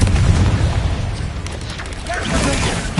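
Booming spell blasts from an explosive curse cast in the Hogwarts Legacy video game, loud, dense and continuous, with a second burst swelling near the end.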